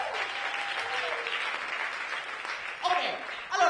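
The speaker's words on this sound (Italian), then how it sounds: "fateli un applauso" An audience at an improvised song festival show claps in a moderate, fairly distant wash of applause, with a voice and a musical flourish near the end.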